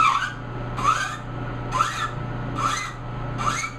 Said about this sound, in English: going to just barely kiss the tops of these with a file to where they're not quite as pointed up